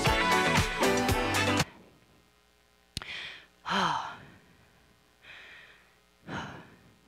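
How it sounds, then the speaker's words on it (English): Heavy breathing after a lower-body strength workout: music cuts off, then loud, close exhales and sighs come in separate bursts with quiet gaps between. "Are you breathing heavy too? Because I am."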